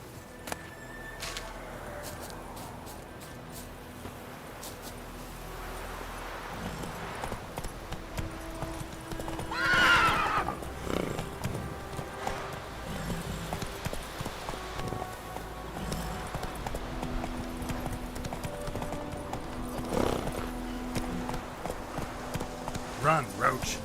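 Roach, a horse in The Witcher 3 video game, gallops with steady clip-clopping hooves under nearly continuous talk and game music, the hoofbeats moderate and mid-distance throughout.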